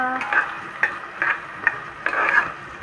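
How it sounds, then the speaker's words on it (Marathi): Onion sautéing in oil for a quick vegetable pulao, stirred with a spatula in short, regular strokes that scrape and clink against the pan over a soft sizzle, close and fairly loud. "हे चांगल्या प्रकारे तेलामध्ये परतून घ्यायचं आहे आपल्याला"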